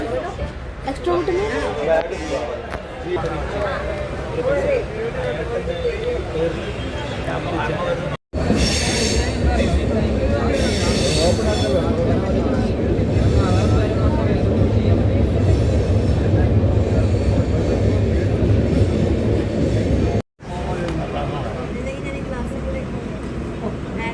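Continuous rumbling clatter of a train running on rails, with people talking over the noise and a couple of brief cuts.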